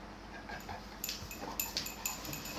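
A dog whimpers with soft, high-pitched whines and yips over a low background hum, close by and fairly quiet.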